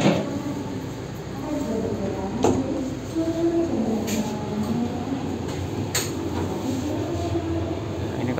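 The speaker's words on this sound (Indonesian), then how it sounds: "jalur 2 masuk kereta api Sawung Gali dari Kutoarjo tujuan Pasar Senen" The Sawunggalih train from Kutoarjo to Pasar Senen rolls into platform 2 of an Indonesian station with steady rumbling and occasional metallic clanks, under a busy ambient hum.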